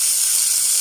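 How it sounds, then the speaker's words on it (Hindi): Carrots drop into a hot pan for chicken soup, giving a steady, bright hiss of sizzling steam with no pause, heard alone and close. "और साथ ही हम गाजर डाल देते हैं"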